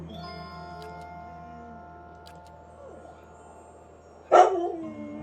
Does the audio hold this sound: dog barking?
yes